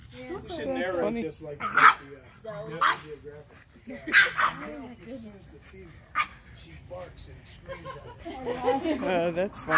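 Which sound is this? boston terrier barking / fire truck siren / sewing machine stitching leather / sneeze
boston terrier barking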